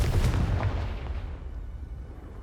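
Confringo blasting spell going off in the Hogwarts Legacy video game, a single heavy booming explosion with a rumbling tail that fades over a couple of seconds, heard alone.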